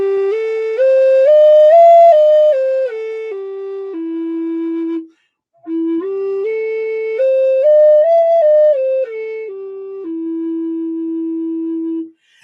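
A Native American flute plays an alternate pentatonic scale, its clear, breathy tones stepping up and then back down in held notes, with a short pause before the phrase repeats; no talking.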